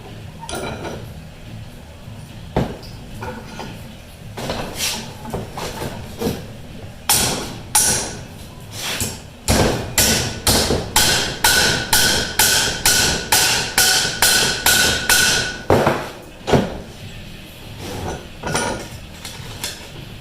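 Hammer blows shaping a sheet metal drip rail on a 1956 Ford F100 truck, ringing metallic strikes in bursts and then a steady rapid run of evenly spaced hits, close and loud, with no talk.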